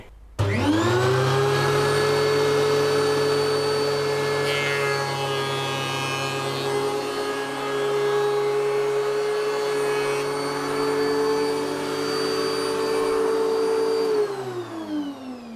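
DEWALT DW735 thickness planer feeding old rubberwood hardwood, a loud sustained whining roar with a high steady tone that runs for about fourteen seconds before winding down, with no voices.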